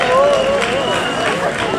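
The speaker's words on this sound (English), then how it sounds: "I'll give a round of applause to all the musicians that have played today." A festival crowd at an international blues festival in Schöppingen, Germany, applauds the musicians with a steady, dense patter of clapping, while a voice talks over it.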